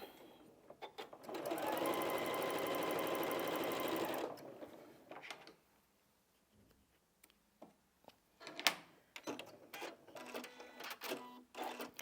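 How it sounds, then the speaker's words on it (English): A sewing machine stitches a quarter-inch quilt seam, running in a fast steady whir for about three seconds before stopping, followed by a series of light clicks and rustles of handling the fabric. "And I'm going to sew that."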